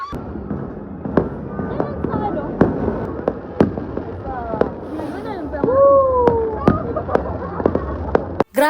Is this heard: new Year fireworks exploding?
yes